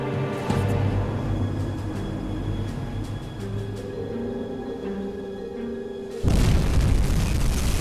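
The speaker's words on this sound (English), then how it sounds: "A very good hit to the stern of the ship." Torpedoes strike a Town-class destroyer in the U-boat game, a heavy broadband explosion bursting in loudly near the end over a steady low rumble of engines and sea.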